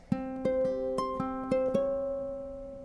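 Ukulele plucking out the closing bar of a song, a handful of bright picked notes and a strummed chord ringing out clearly and alone, with notes sustaining and decaying at the end.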